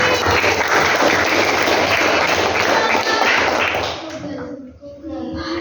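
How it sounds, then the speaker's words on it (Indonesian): Applause from a class of students, with dense, steady clapping and some taps for about four seconds before it breaks off and fades into quieter room noise with voices. "tepuk tangan untuk kelompok canggih"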